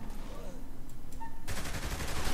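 Rapid sniper rifle fire in Saints Row III, bursts of quick shots that grow denser and louder toward the end, with some background game noise.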